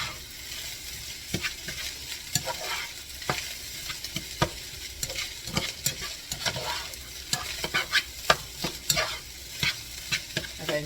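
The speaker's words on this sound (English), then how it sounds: "now you're going to mix it. Get all that egg in there." Egg being mixed into fried rice on a hibachi grill: sharp repeated spatula scrapes and clacks in an uneven rhythm over a steady close sizzle, no voices.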